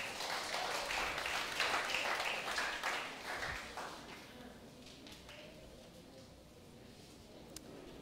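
A church congregation claps for Jesus during a Sunday service, a burst of scattered applause that is strongest at first, then thins out and fades to a quiet room with a few stray taps.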